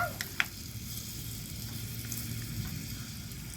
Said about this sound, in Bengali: এবার আমি একটু নাড়িয়ে নেব।